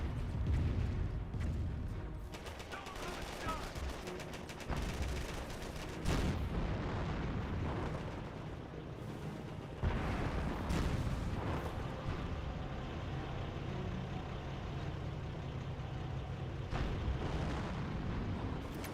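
Distant artillery blasts and an incendiary trap going off in Company of Heroes, a World War II strategy game, as repeated low booms and rumbling eruptions under a steady battle din, fairly quiet throughout.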